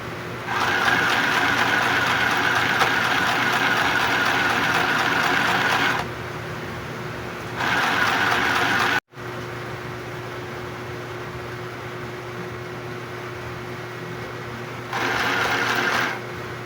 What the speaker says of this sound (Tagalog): Pero magtatahi din ako ng makina dahil ito yung ruffles.